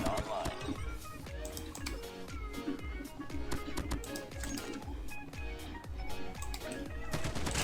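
Rapid automatic gunfire rattles continuously in the Call of Duty Mobile video game, dense bursts with sharp bangs throughout, likely including a car being shot and exploding.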